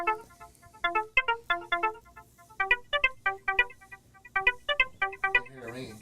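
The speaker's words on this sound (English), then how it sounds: "I hear it ringing. Yeah, it's ringing" A phone ringtone plays a bright repeating melodic pattern in quick bursts, loud and close, with short pauses between phrases.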